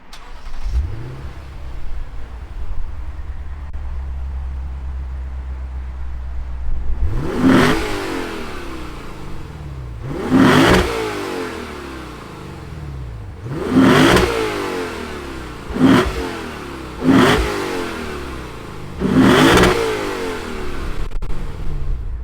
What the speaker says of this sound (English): let's fire up this V8 and hear what it sounds like